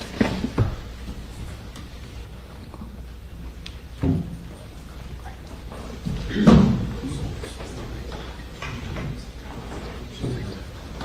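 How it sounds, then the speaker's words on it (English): A door slams with a loud thud in a room, standing out among a few duller knocks and bumps over a quiet, murmuring background. "The door was loud."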